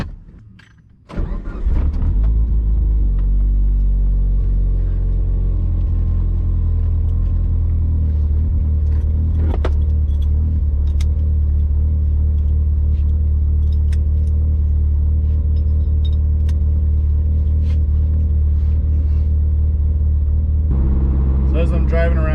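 A Mitsubishi Evo 8 GTR driving around town, its engine catching after a moment and then holding a loud, steady low drone with occasional light rattles, a voice talking at times.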